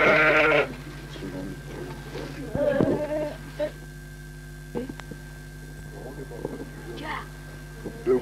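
Sheep bleat inside a sheepfold where the flock is kept for the winter, a few loud close bleats at the start and scattered calls after, over a steady hum.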